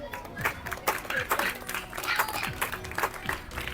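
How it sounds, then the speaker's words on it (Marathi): An audience claps for a student at a school quiz event: a cluster of distinct, uneven handclaps from a modest group, moderately close, with some crowd murmur underneath. "आपण टाळ्या वाजवायच्या आहे"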